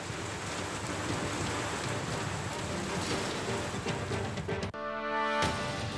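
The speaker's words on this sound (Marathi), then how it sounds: "सुमारे अर्धा तास जोरदार पाऊस बरसला." Heavy pre-monsoon rain pours steadily as a dense, loud roar with no breaks for almost five seconds, then cuts off abruptly into a brief tonal musical passage.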